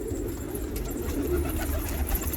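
A pigeon or dove coos softly and steadily against a low, constant background rumble, with no voices.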